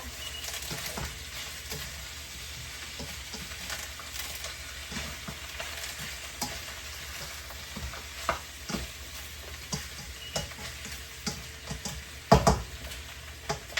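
Beef ribs for soup stirred in a pot, a steady sizzle with repeated scraping and knocking of the utensil against the pot, a few louder clanks near the end.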